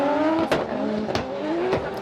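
Drift cars race at Formula Drift Japan, Suzuka, with high engine revs rising and falling and sharp bursts of tire squeal, loud and close, with no voices.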